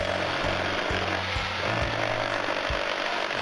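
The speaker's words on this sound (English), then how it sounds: "I'm just using a jigsaw to cut out the outline." A jigsaw buzzes loudly and steadily as it cuts the outline of a wooden heart shape, its motor pitch dipping briefly several times.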